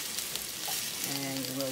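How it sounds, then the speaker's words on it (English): Fish broth poured into a pan with browned flounder, sizzling and bubbling steadily at close range, a soft continuous hiss with faint bubbling pops and no talking. "And you let it bubble for a minute."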